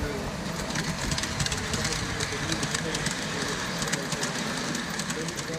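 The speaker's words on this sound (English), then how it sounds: "the model train at the IWK Children's Hospital is back on its tracks" A model train runs on its tracks at the IWK Children's Hospital, a continuous rattling clickety-clack with engine hum, close and steady, with voices faintly underneath.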